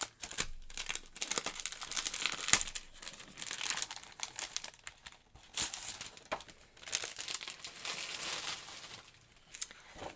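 Journal papers being crumpled and crinkled at close range during an art and journaling craft session, with bursts of dry rustling and crackling that come and go over ten seconds, and no talking.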